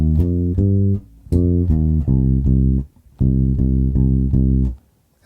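A bass guitar plays a groove exercise, moving down through the same line in rhythmic repeated notes. Three phrases are separated by short pauses, loud and close with no talking.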